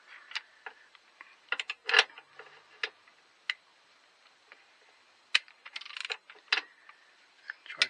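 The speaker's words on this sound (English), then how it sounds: "then you get a socket ratchet" A socket ratchet works on a bolt during auxiliary belt and tensioner replacement on a Renault Megane 4 RS Trophy engine, giving close, sharp clicks in scattered bursts with quiet pauses between.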